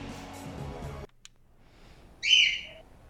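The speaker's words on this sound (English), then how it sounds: "Chirp. Yeah, that's whippoorwill." A whippoorwill calls once, a short, bright whistled phrase after a pause, faint and somewhat distant, with background game sound fading out just before it.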